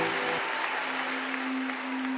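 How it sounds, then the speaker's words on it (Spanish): Audience applause greeting a duo of brothers at a Christian string music tribute concert, a steady dense wash of clapping throughout with a sustained tone underneath. "Recibámosles con fuerte aplauso."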